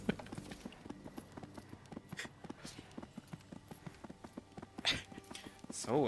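Horse hooves clip-clop in a steady, regular rhythm during the video game Disciples: Liberation, moderately loud with occasional talking and other game sounds over the top.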